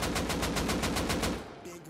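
An AK rifle fires on full auto in the video game Rust, a loud rapid burst of evenly spaced shots lasting over a second, then cutting off.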